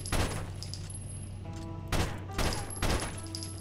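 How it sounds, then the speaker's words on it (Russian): Several loud shotgun blasts go off at a steady pace in the busy soundscape of the video game Rainbow Six: Vegas, each a sharp boom over a constant low hum. "Там кто-то с дробашом херачит."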